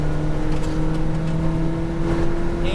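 A McLaren 570S GT4 race car drives a straightaway at Speed Vegas, its engine holding a loud, steady droning tone that rises slightly in pitch toward the end, heard from inside the car without talk.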